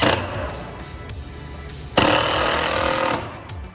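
Power screwdriver driving screws into a wooden brace, loud continuous whirring motor bursts, one long run followed by a second stronger run of about a second, close up with no talk.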